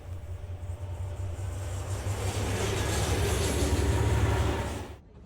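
The Greenlander, a slow heritage train run by 707 Operations, rumbles past with a deep, rolling low drone that builds gradually, peaks near the end, then cuts off suddenly.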